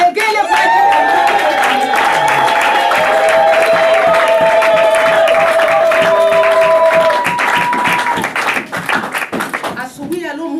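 A church congregation bursts into applause with high trilling ululation, sustained warbling cries riding over loud clapping and cheering before the noise thins out near the end.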